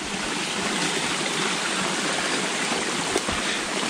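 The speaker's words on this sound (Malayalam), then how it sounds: "ഓക്കെ. ചെറിയൊരു അരുവി." A small forest stream flowing during the rainy season on a trek in Periyar, a steady, close rushing and babbling of water that stays constant throughout, with no voices.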